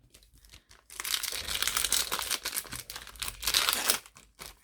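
Crinkling and tearing of a Pokémon card pack's paper wrapper, close and fairly quiet, starting after a brief pause and continuing in uneven rustling bursts before tapering off.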